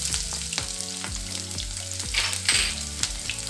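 Chopped shallots sizzling with mustard seeds in hot oil, a loud, close, continuous frying hiss broken by crackles and spatters, with steady tonal hum beneath and no voices.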